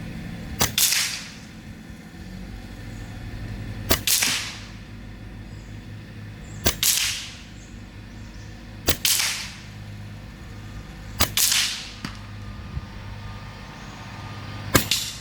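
A Taipan Slash semi-auto PCP air rifle fires 23 grain Javelin slugs in five sharp, loud cracks spaced a few seconds apart over a low background hum, with no talking.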